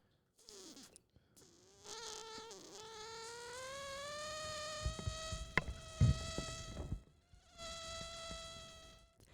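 A human voice imitates a mosquito's whine, a sustained nasal buzzing tone that rises and wavers for several seconds, then trails off into a shorter final buzz.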